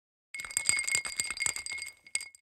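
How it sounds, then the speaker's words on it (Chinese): Ice cubes clinking and rattling against an old-fashioned glass as a smoky whisky cocktail with a sugar cube is stirred, a close, steady run of bright glassy taps with no voices. "放入冰块搅拌"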